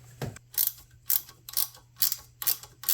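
A ratchet tightens an engine bolt in short, crisp clicking bursts, about six even strokes roughly half a second apart, close and clear with no talking.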